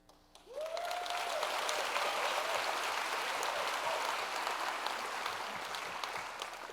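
Sustained applause from a university lecture audience welcoming the evening's speakers, with loud, dense clapping that starts abruptly and holds steady for several seconds.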